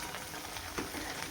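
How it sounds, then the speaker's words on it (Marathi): Sabudana vada frying in hot oil makes a soft, steady sizzle with a faint bubbling texture over a brief stretch. No one talks. "आत्ता परत मी 4 वडे आहेत ते तळून घेणार आहे."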